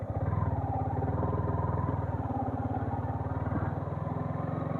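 A motorbike engine idles and runs steadily in first gear, a close, continuous low throb with a rapid even pulse throughout.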